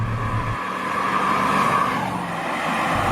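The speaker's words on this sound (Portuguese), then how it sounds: "É um carro forte com motor V8 e tem uma aceleração impressionante." A V8 sports car that once served as a Formula 1 safety car in the 1990s accelerates hard, its engine note rising and roaring loudly and steadily close by with no talk over it.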